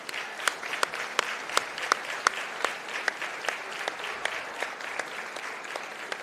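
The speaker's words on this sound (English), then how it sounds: "Give them a round of applause" Audience applause fills a 4-H swine show arena, a steady wash of many hands with sharp individual claps standing out, sustained evenly throughout without talk.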